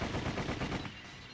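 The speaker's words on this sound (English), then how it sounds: "the hallway was filled with the sound of gunfire" Rapid gunfire bursts in the Sweet Fuse video game, loud and dense for about a second before cutting off into a quieter tail.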